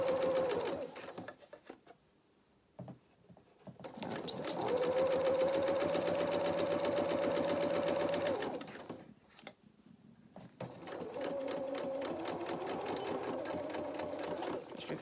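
Sewing machine stitching a faced lining on a dressmaking project, two sustained runs with a whirring motor tone, separated by a brief pause and light handling noises, close up.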